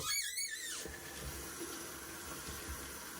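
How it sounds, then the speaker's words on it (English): Running tap water rinsing out a shaving brush at a bathroom sink, a steady close hiss and splash opened by a brief squealing faucet note, with no voices. "Rinse out my brush."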